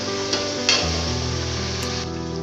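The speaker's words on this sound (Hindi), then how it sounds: "अब हम अच्छे तरीके से इसको भूनेंगे।" Tomatoes and chillies fry in a pan for kadhi pakora, giving a continuous close sizzle with a couple of brief stirring clinks, steady and loud with no voices.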